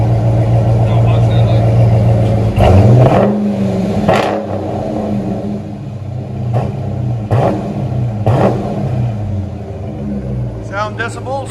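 A Dodge Challenger R/T's 5.7L HEMI V8 with a mid muffler delete revs close by, deep rumbling idle swelling into several sharp blips, with voices talking over the exhaust.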